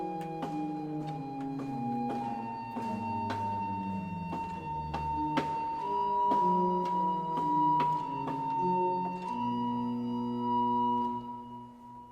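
Pipe organ playing a simple sketch of Bach's chorale prelude BWV 607, Vom Himmel kam der Engel Schar, with the melody over downward-running pedal scales; sustained, steady, moderately loud tones with clear note changes, no talking.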